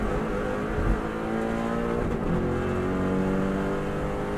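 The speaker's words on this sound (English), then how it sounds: "Now we're flat out, car bounces across the road." Subaru race car flat out on the Isle of Man TT course in 2014, engine roaring steadily and close up with strong harmonic whine, continuous and loud for the whole stretch.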